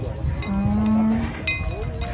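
A cow gives a long, steady moo over a noisy outdoor background at a cattle contest in Banyuwangi, with crowd murmur and a faint clank of metal nearby.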